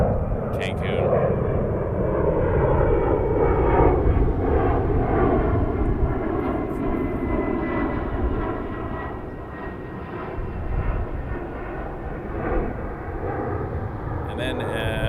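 Airliner taking off from runway 23 at Toronto Pearson, a sustained loud engine roar with a rumbling low end that holds steady for the whole stretch, with no talk over it.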